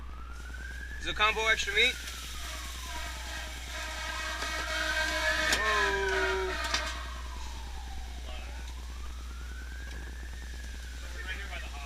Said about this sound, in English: So we're right here by the hospital, so there's a ton of ambulance.